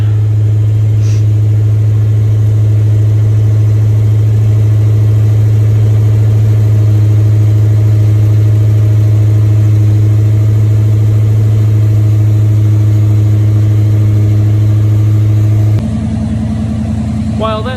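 Supercharged Chevy LUV engine idling as it warms up, a loud, steady low drone held for most of the clip, then the tone shifts abruptly near the end.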